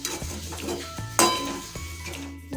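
A spatula scrapes and clinks against a pan while semolina and coconut barfi mixture is stirred with ghee, several sharp metallic knocks over soft sizzling, close and clear.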